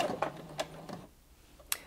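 A Brother Innov-is 15 sewing machine stitches in a short run of quick rhythmic mechanical pulses lasting about a second, then goes quiet before one last brief tick.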